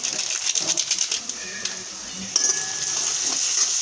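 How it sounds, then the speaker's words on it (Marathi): Biryani masala is stirred in a frying pan, a soft scraping and stirring over a faint hiss of frying, close and fairly quiet, with irregular spoon strokes. "ते मस्त असं हलवून हे करून घ्यायचं व्यवस्थित"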